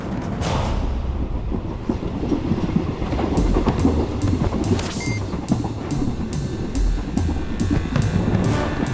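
A train runs on rails, a continuous rumbling roll with regular clickety-clack beats from the wagons, loud and close, with no talk.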